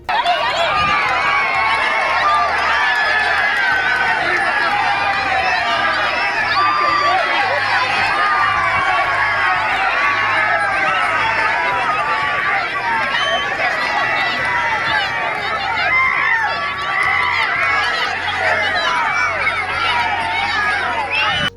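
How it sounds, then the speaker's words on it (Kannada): A crowd at a village fair game in Suttur keeps up a continuous roar of cheering, shouting and babble, dense and unbroken throughout. "ಕ್ರೀಡೆಗಳಲ್ಲಿ ಪಾಲ್ಗೊಂಡಿದ್ದವರನ್ನು ಜನರು ಶಿಳ್ಳೆ ಚಪ್ಪಾಳೆ ಹೊಡೆಯುವ ಮೂಲಕ ಪ್ರೋತ್ಸಾಹ ನೀಡಿದರು"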